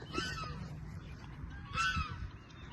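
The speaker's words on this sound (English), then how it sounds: "what you think about them geese" Geese honk in two brief bursts at a distance, with low rumbling and handling noise in between.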